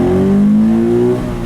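A stock-exhaust 2013 Scion FR-S with a manual gearbox accelerates hard, its engine note rising smoothly in pitch, loud and close from inside the car, alone without talk.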